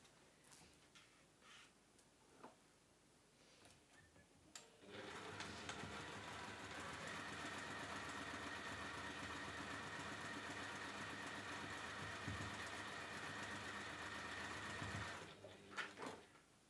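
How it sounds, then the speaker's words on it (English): Sewing machine stitching a double-sided carry case, a few faint clicks and handling noises first, then a steady continuous run of close, even stitching for about ten seconds before it stops. "But I will now sew from the top so that I know where it is."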